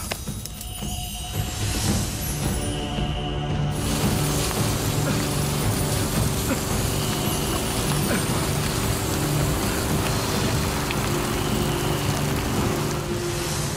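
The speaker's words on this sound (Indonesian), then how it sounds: "Hujan lagi." Steady rain pours down outdoors during a story scene, a continuous dense hiss that swells after the first few seconds and holds loud and even to the end, with no talk over it.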